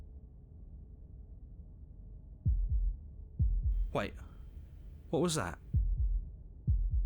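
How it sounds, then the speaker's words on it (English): Heartbeat in the game Slay the Princess thumps in slow, deep, booming pulses, about five evenly spaced beats, while a voice speaks over the middle beats. "That was the sound of a heartbeat"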